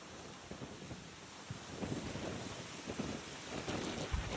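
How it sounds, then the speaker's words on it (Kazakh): Wind rising outdoors ahead of a storm in East Kazakhstan, a steady broadband rush with gusty swells and low rumbling buffets on the microphone, moderately loud and building slightly over the few seconds, with no voices. "Жел көтерілді."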